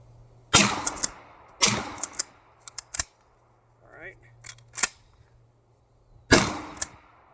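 Shotgun blasts fired with buckshot during a standing-to-kneeling qualification drill: three loud, sharp reports spaced about a second apart, then smaller clicks and handling noises during a reload, and a final blast, with no talking.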